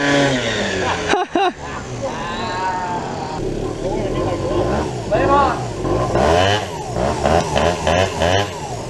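A scooter engine with an aftermarket exhaust revs loudly and repeatedly during a burnout at a drag race, whining up and down, while people talk and shout excitedly nearby.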